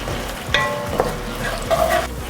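Finely chopped onion sizzling in hot, aromatic olive oil, a close steady hiss with a few sharp stirring clinks and scrapes.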